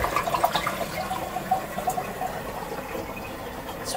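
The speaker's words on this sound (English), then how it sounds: "So if you do the big flush, I'm just going to try it out here." Water rushes steadily from a Japanese toilet's big flush, which also runs a stream for hand washing; a continuous, fairly close splashing flow with no talking.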